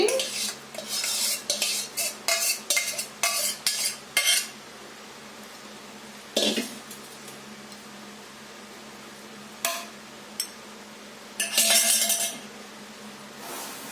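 Fried chicken pieces tipped into a biryani pot and stirred with a metal spoon, giving a quick run of close clanks and scrapes, then a few sparse knocks and a final longer scrape against the pot.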